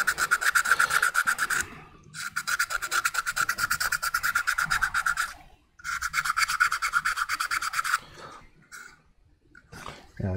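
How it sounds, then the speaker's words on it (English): Hand sanding of a glass-filled PLA 3D print with a sandstone-like surface texture, giving rhythmic, close scratchy rasping strokes in three bursts separated by short pauses, then quieter handling noise at the end. "And to try to sand it just a little bit to see how it."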